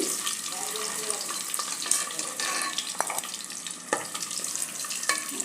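Eggs fry in hot oil in a pan for egg biryani, giving a steady close sizzle and crackle with a few small clinks and stirring scrapes throughout.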